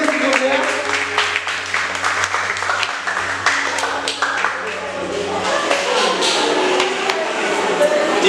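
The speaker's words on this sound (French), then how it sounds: "Applaudissez s'il vous plaît." Applause from an audience at an intellectual quiz competition, a dense, steady burst of many hands clapping for several seconds, loud and close, with some talk mixed underneath.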